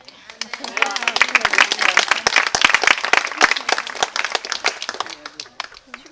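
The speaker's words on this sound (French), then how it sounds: "Bravo, on peut les applaudir encore" A congregation at a baptism applauds, scattered claps building into dense, lively clapping near the listener and tapering off, with voices mixed in underneath.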